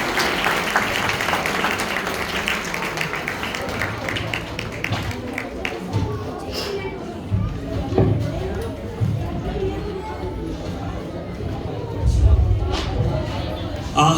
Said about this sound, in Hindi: आइए हम भी परमेश्वर का धन्यवाद करते हुए हमारे इन प्यारे बच्चों के लिए तालियां बजाएं।